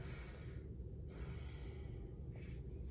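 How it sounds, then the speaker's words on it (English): A patient draws a deep breath during a nursing lung auscultation, a soft airy inhale followed by a quieter second breath, close and low against a steady background hum. "Okay, go ahead. Deep breath."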